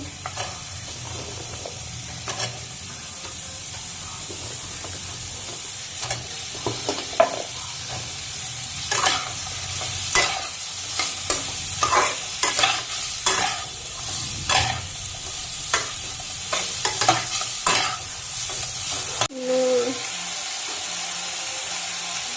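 Ridge gourd pieces hit hot oil in a pan and fry with a continuous sizzle, punctuated by a series of rhythmic stirring scrapes and clatters, close and loud, with almost no talking.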